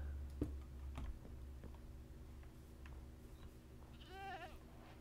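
In the Minecraft video game, a goat gives one brief wavering bleat near the end, over a quiet hum and scattered keyboard clicks, with no talk.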